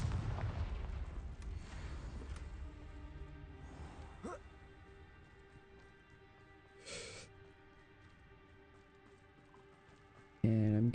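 Spell explosions from a fantasy video game blast out in a few bursts, with a rumbling game soundtrack underneath and a sharp loud burst at the end.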